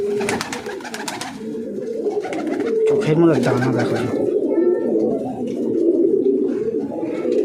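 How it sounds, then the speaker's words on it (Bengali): Tournament racing pigeons coo in soft, low, throaty repeated calls close by, running under a voice that talks throughout. "এটাও আরেকটা তপনদার পায়রা।"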